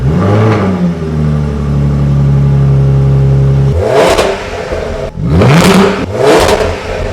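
Jaguar F-Type V6S engine in dynamic mode, a long steady high-revving drone that drops off, followed by three sharp loud blips of the throttle, close and alone with no talk.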